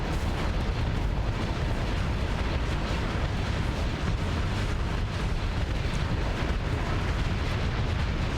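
Torpedoes launched and detonating in the space combat game Starsector, heard as a dense, continuous roar of rumbling blasts and booming explosions that stays loud and sustained throughout.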